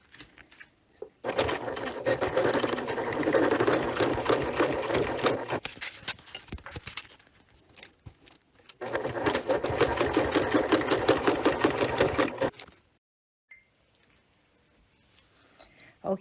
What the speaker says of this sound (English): So let's get this stitching done so that we can get our frame on.